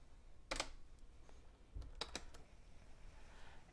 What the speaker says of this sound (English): so you have to type cload M